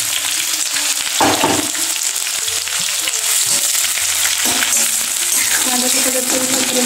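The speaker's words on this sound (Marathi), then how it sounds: "कांद्याचं कलर करून चांगलं त्याला फ्राय करून घ्यायचं." Chopped onion frying in a pan of oil with mustard seeds and curry leaves, giving a loud, steady, close sizzle that runs unbroken throughout.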